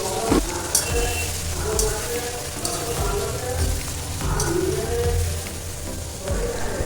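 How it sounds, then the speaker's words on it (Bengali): Green beans fry in a pan during home cooking for a festival meal, giving a steady, moderately loud sizzle that crackles evenly throughout. "এবার বিন কড়াই ভাজছি।"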